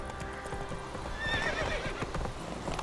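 Horse galloping with rhythmic clip-clop hoofbeats and a clear neigh partway through, in The Witcher 3 on Nintendo Switch, continuous and fairly close.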